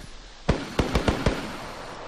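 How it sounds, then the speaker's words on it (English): Five sharp gunshots from the survival video game DayZ crack out in an irregular run over a steady background hiss. They sound moderately distant, and no one talks over them. "I can hear the shots."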